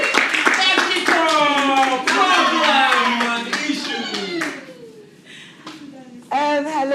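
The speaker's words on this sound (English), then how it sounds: "I need to clap for Bessie." Hands clapping for a presenter at a stage event, sharp claps mixed with loud excited voices calling out, the clapping thinning as shouting and chatter take over toward the end.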